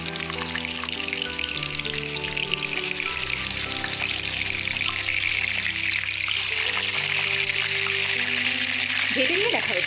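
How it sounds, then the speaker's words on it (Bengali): Chicken pieces, including a leg piece, fry lightly in white oil for chicken chaap, a steady bright sizzle running throughout while a person talks over it. "আমি এই চিকেনগুলো একটু হালকা করে ভেজে নেব।"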